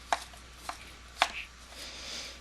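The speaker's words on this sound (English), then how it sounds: "Sorry for the loud sound of my knife on the cutting board." A knife strikes a cutting board in three sharp, separate chops spaced roughly half a second apart, quiet overall and close, with light rustling between hits and no talking.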